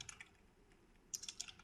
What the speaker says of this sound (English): I'm just typing here